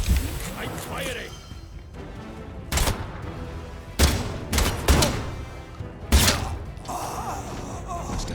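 Gunfire in the game Atomfall: several loud, separate shots ring out a second or so apart with sharp cracks and low thumps, mixed with a voice talking.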